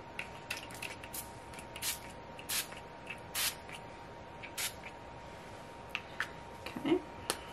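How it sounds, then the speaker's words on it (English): All-nighter setting spray misted onto a face in short, soft pumps, a dozen or so quiet bursts spaced unevenly against a faint hum. "we're going to set with our all-nighter setting spray"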